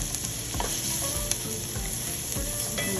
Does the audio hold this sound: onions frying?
yes